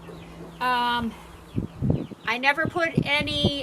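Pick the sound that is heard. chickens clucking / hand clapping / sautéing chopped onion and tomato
chickens clucking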